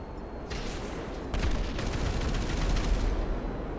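Rapid gunfire from a broomstick weapon in GTA Online, a dense fusillade of shots that starts quiet and grows louder and continuous partway through, with an ongoing game backdrop.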